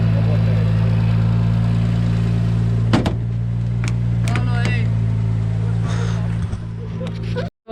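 BMW M54 turbo engine idling in a car during a shakedown, a loud steady low hum with strong harmonics, interrupted by brief clunks and a voice talking over it before cutting off abruptly at the end.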